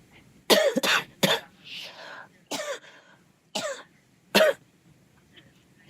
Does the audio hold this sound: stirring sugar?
no